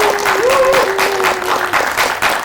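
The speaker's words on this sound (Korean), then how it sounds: "감독 및 배우님들 참석해주신 모든 분들께 인사 박수" A press screening and press conference for the Korean action noir film 'Black Snake' fills with steady, loud audience applause, with a faint high tone gliding through the clapping.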